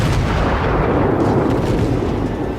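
Warship guns fire a salvo in World of Warships while the IJN Katori engages a South Carolina, a heavy rumbling boom that rolls on continuously and loud for a few seconds without talk.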